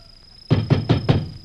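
Four firm knocks on a wooden door in a 1950 Indian film scene, evenly spaced and loud and close, after a moment of near silence with no talk.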